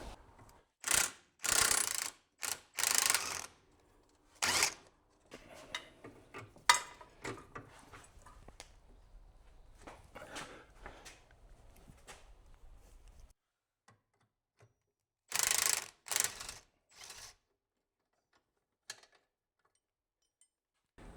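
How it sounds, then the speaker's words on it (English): Impact wrench rattling off parts during a vehicle parts-stripping job, with several loud, close bursts of hammering buzz separated by quieter mechanical clicks and silences. "Rattle gun."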